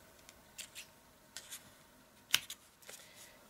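Scissors trimming paper and card stock while finishing a handmade Christmas tree card, a few soft scattered snips and rustles ending in one sharp, close cut, with no voice.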